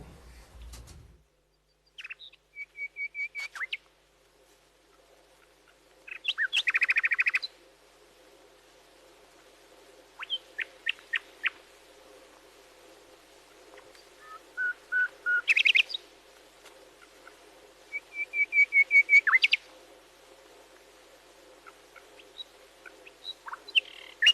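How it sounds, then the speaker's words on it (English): A nightingale sings alone in a quiet setting, delivering a series of separated phrases of rapid trills, whistles and chirps spread across the clip against a faint steady background hum. "Now let's listen to the Song of a Nightingale."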